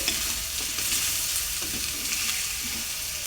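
Fish curry with green chilli pieces is stirred in a pan over a close, continuous sizzle, with scraping strokes of the spoon repeating throughout.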